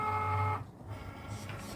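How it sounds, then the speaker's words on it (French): A Cricut cutting machine starts a cut on red holographic heat-transfer vinyl, giving a steady electronic motor hum with a tonal whine that drops off after a moment into softer mechanical whirring, close and moderately loud. "Je lance la découpe."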